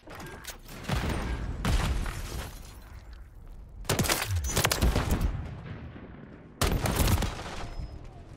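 Assault rifle gunfire in a first-person shooter video game, heard as three loud bursts of rapid shots with quieter game noise between them.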